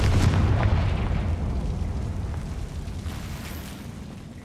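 A fiery Confringo spell explosion in the Hogwarts Legacy video game, a loud booming blast with heavy low rumble that slowly fades over a few seconds, no talk over it.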